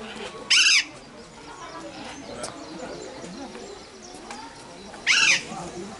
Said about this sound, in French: Ça a des chouettes ici.